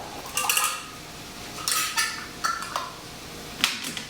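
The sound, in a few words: placing caps on glass canning jars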